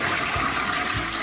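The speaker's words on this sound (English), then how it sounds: "Big flush." A toilet flushes in a shed converted into a tiny house, a steady close rush of gushing water filling the short moment without any voices.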